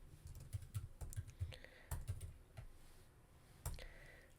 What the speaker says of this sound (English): I can't even see what I'm typing here